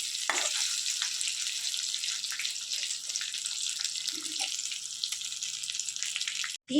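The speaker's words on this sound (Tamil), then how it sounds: "பெரட்டி போட்டு பெரட்டி போட்டு செய்யுங்க எல்லா பக்கமும் நல்லா வேகணும்" Chicken 65 pieces deep frying in hot oil, a dense, bright, continuous crackling sizzle held close and steady, with a faint knock partway through and a brief cut at the end, no voices.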